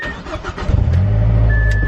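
A car's engine cranks briefly and then catches after a spark plug change, settling straight into a loud, steady close-up idle.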